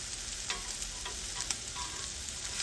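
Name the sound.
pork chops browning in a pan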